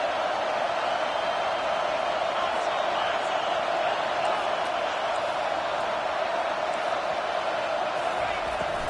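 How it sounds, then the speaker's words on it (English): Steady, dense roar of a large college football stadium crowd on a third-down defensive stand, loud and sustained throughout with no breaks. "decibels rising as the crowd gets behind this defense on 3rd down"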